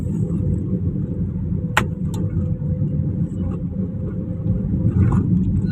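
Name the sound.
busy road traffic in a traffic jam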